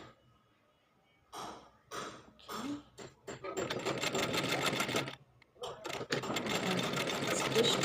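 A sewing machine stitching a dress sleeve for a one-piece female dress, running in short bursts with pauses, then a longer steady whirring run, heard close.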